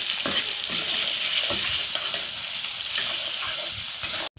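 Chopped onion frying slowly in a pan over a low flame, a steady close sizzle with soft crackles and a few faint clinks, with no talking.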